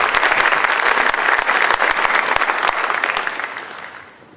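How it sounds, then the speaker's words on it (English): An audience at a small-town high school prom promenade claps for a couple, broad crowded applause that holds strong and then tapers away over the final second. "Round of applause for Sarah."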